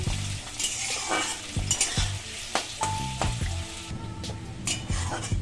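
Chopped onion frying in mustard oil in a kadai, with a steady close sizzle throughout and clinks and scrapes of a spatula stirring it.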